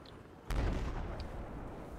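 A single heavy explosive blast goes off in Battlefield 4, a sudden booming detonation followed by a rumbling tail that fades slowly.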